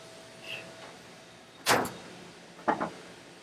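Door of an Oce VarioPrint 6000 production printer being shut during cleaning-web replacement: one sharp latch-like knock, followed a second later by a double clunk as the panel seats, close and fairly loud against quiet room noise.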